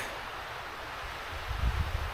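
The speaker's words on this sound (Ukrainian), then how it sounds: "вітер місцями такий трошки шалений" Wind rushes steadily through trees in an autumn forest with a broad, airy hiss, swelling into low rumbling gusts buffeting the microphone toward the end.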